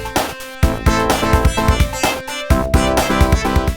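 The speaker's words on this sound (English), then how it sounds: "So today we're going to be making a piece of Megadrive music again" Sega Mega Drive–style chiptune music made with the Rym2612 FM synthesizer plays loud and alone, with punchy FM bass, bright lead tones and a steady driving beat.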